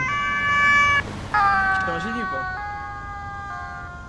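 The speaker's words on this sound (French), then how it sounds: "Voiture des pompiers qui arrivent encore." A fire engine siren wails past on a street where performance cars such as a C63 and an M5 are present, its steady tones shifting pitch as it goes by while a voice speaks briefly over it.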